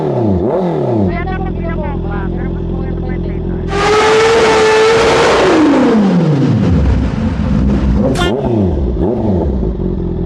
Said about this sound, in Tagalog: 2024 Honda CB650R na naka full exhaust na